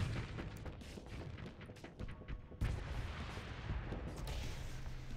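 A ship exploding during a space battle in the video game Starsector, a dense rumbling roar of explosions and weapon fire that keeps going without a pause.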